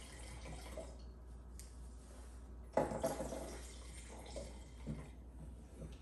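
Aralena Pinot Grigio white wine poured from a bottle into a glass, a soft liquid trickle with a brief louder splash midway, fairly quiet against faint background hiss.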